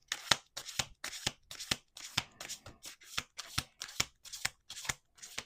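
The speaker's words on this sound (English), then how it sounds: "Okay, one more shuffle." A deck of oracle cards being riffle-shuffled over and over, with close, crisp bursts of flapping card edges in a steady rhythm that runs the whole time and no one speaking.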